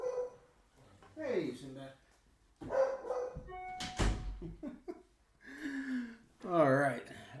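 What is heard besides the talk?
dog barking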